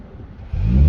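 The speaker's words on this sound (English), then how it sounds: "So car comes to life there" A Mercedes-AMG C43 engine fires up in Sport Plus mode, a sudden loud low rumble kicking in halfway through and holding steady and close after a quieter lead-in.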